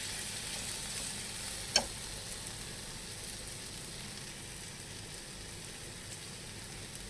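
Okra fries with mustard, ginger and garlic in a pan, giving a soft, steady sizzle that stays even throughout. There is one faint click partway through and no talking.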